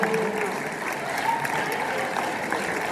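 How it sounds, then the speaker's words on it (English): Sustained audience applause fills a school Veterans Day program after a middle school choir's performance, a steady dense wash of many hands clapping at moderate distance with faint voices underneath. "One more round of applause for our middle school choir for their performance today, and Mr. John Walker."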